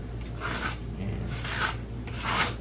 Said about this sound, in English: So now get yourself a big putty knife.